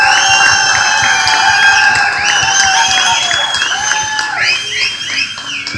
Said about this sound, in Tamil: இன்னொரு தடவை நம்ம ப்ரொடியூசர் சாருக்கு ஒரு பெரிய கைத்தட்டல் கொடுத்துடலாம்.